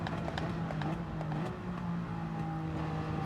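A race car in Gran Turismo 7 drives on, its engine tone holding steady and then stepping in pitch with a gear shift, moderately loud and continuous with faint clicks over the top.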